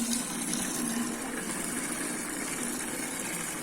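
Water gushes steadily from a tap in a home kitchen or sink area, a continuous broadband rush that stays loud and even throughout with no voices over it.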